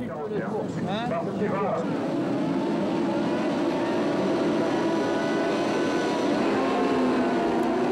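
Supersport racing motorcycles launch from the start of a race at Ledenon, a loud blended roar of many engines rising in pitch as the pack accelerates away, with a voice heard briefly at the beginning.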